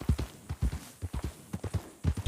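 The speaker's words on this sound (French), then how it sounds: "Dès qu'il commence à décoller, c'est que c'est du galop." A horse's hooves strike in a fast, irregular galloping rhythm, close and clear, in quick clusters of beats with no talking.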